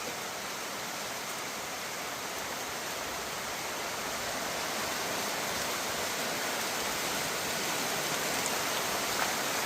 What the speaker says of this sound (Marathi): चालू झाला बघा पाऊस.